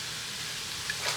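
Olive oil sizzling in a hot pan while cooking stuffed pork loin with crawfish, a steady soft hiss and crackle, close and faint, with no talk.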